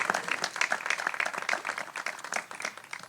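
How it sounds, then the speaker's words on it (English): An audience applauds for John, a U.S. Navy veteran and county attorney, at a Memorial Day service: a dense, steady burst of many hands clapping that fills the whole moment, with no voices over it. "So round of applause for John"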